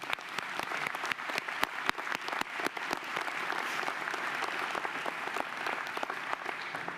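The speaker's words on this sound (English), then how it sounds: "Please join me in applauding all who are with you today" Audience applause at a medical school graduation ceremony: many hands clapping in a sustained, even patter with sharp individual claps standing out, moderately distant and without speech.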